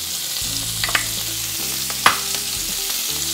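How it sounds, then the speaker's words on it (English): Onion, celery and carrots sautéing in a pan on lowered heat, a steady sizzle with a few light clinks and one sharp utensil tap partway through, close and fairly loud with no talking. "And we're gonna saute these for about 7 minutes."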